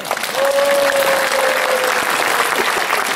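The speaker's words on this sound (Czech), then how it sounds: "Těm všem prosím vyjadřeme vděčnost potleskem." Dense, steady applause from a concert audience thanking sponsors at a memorial event, loud and sustained throughout, with a brief whistle-like tone over the crowd.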